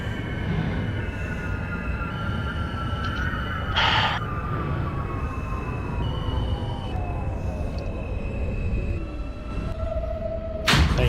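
An NYC Subway R160A Alstom train on the Q line in the OpenBVE simulator rolls along with a steady low rumble and rising and falling motor whine, plus a couple of brief bright clanks.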